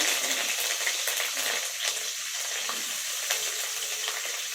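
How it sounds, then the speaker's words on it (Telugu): Onions, green chilies and curry leaves fry in a pan for tomato egg curry, producing a dense, continuous sizzle with soft stirring scrapes, close and loud, with no voices. "లైట్ గోల్డెన్ బ్రౌన్ కలర్ వచ్చేంత వరకు వేయించుకోవాలి"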